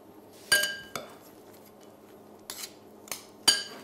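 Thinly sliced carrot salad being tossed in a dish, giving a few sharp utensil clinks against the bowl spaced irregularly over a quiet background.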